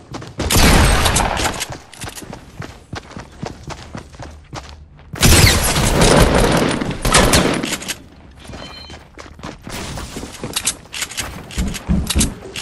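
Video game gunfire crackles in dense, loud bursts of rapid shots and automatic fire, with short pauses between volleys and a few faint voices underneath.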